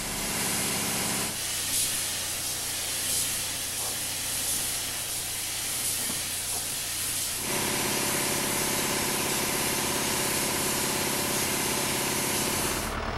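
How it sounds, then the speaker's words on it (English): A spray gun hisses steadily while applying shiny engine-black paint to a restored 4-6-2 Pacific steam locomotive, the Soo Line 2719, in continuous bursts with a brief change in tone partway through. "Gary Bensman brings out the spray gun again, this time for the first coat of shiny engine black"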